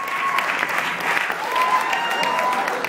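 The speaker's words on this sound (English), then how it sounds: "let's big round of applause for Clutch Lambert" An audience at a live stand-up comedy show applauds steadily for a comedian, a dense wash of clapping heard from close range. It stays sustained and even throughout, with no voices rising above it.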